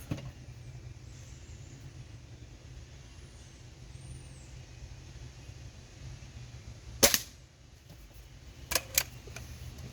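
A Diana 240 air rifle is fired at a target about 10 meters away, two sharp, close cracks a couple of seconds apart, set against quiet outdoor background hiss.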